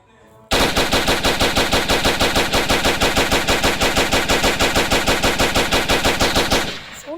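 A PKM machine gun in a gun simulator game fires one long, loud, unbroken burst of rapid, evenly spaced shots lasting about six seconds, starting sharply and cutting off cleanly, with no talking.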